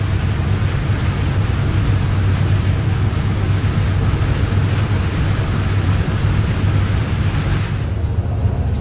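Heavy rain pounding steadily on a car travelling along a toll road, a dense, loud, unbroken roar of drumming water and road rumble throughout, with no talking.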